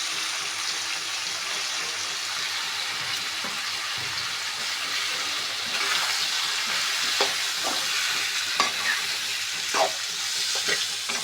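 Chicken roasts in a pan with a ground spice paste, sending up a constant close sizzle while a spoon scrapes and stirs in irregular strokes that grow more frequent toward the end.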